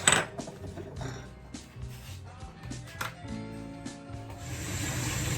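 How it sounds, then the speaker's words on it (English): A cooker hob is rubbed clean by hand, with close, faint scrubbing and rasping strokes in an uneven rhythm, broken by small taps and clinks. "You can clean it, because so just rub it like this"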